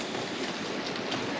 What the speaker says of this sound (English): there's a lot of rain going on as well